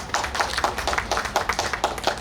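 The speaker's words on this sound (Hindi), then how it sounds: "कृपया तालियों से उनका अभिनंदन करें" An audience at a seminar applauds a speaker being welcomed, a steady patter of many hands clapping close by with no voices over it.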